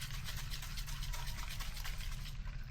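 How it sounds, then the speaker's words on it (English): Carb choke and throttle body cleaner sprayed from an aerosol can onto a Honda CL350 motorcycle carburetor, a continuous close hissing spray that holds steady without a break. "we're just going to spray it down. This is carbon choke throttle body cleaner."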